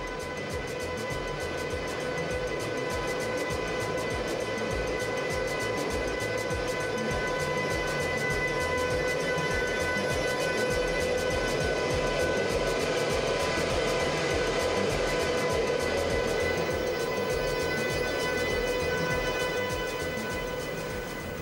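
A Metropolitan express train rolls slowly into a depot hall, a steady mechanical rumble and hum with sustained tonal whine, moderately loud and constant throughout, no voices.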